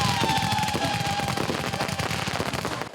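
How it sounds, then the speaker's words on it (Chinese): Fireworks go off at night during a Hakka cultural festival torch procession near a new bridge, a loud, dense, rapid crackle of bursts that continues without pause. "烟火是放甲热烈滚滚"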